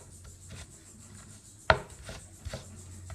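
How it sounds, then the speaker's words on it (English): A knife slices ginger on a board, giving one sharp close cut among faint rubbing and scraping sounds, with no talk. "Now we cut ginger. In few slices,"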